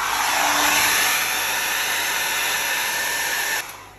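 A hair dryer blows steadily on a freshly painted watercolor landscape of mountain ranges, a loud, close, continuous whooshing roar that holds for several seconds before dropping off slightly at the end.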